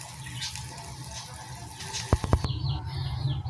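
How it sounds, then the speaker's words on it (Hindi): Cold water is poured into warm sugar water in a home kitchen while iftar is being prepared. A few short splashing glugs ring out clearly over a steady low background rumble. "ठंडा पानी मिक्स कर लूँगी इसमें"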